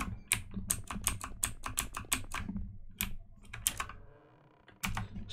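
Fast, crisp clacking from a mechanical computer keyboard, keystrokes tapped close to a microphone in quick bursts, a short pause, then more typing.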